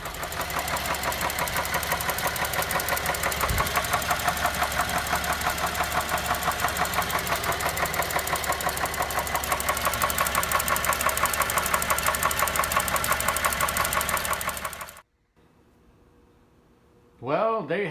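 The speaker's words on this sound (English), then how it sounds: "That's what the engine sounds like on the Chevrolet Traverse." A 2011 Chevrolet Traverse engine runs close by with a rapid, rhythmic ticking knock for about fifteen seconds, then cuts off abruptly, leaving quiet and a brief voice.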